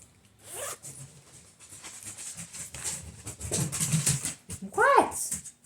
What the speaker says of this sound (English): It's just a zipper